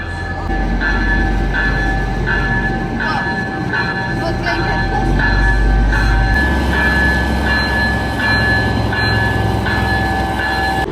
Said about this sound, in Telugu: మన ట్రైన్ కూడా వచ్చేసింది